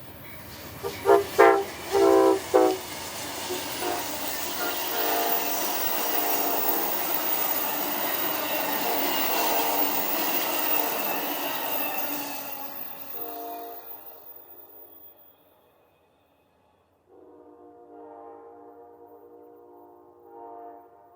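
An Amtrak passenger train rumbles past with a couple of loud horn blasts early on, steady wheel roar fading away, then a distant horn sounding again after a brief quiet.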